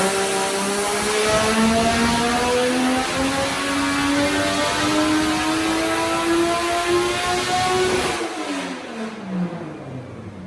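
A Nissan car engine revs hard on a dyno in an enclosed room, a loud sustained climbing whine rising steadily for about eight seconds before the throttle drops and the note falls away.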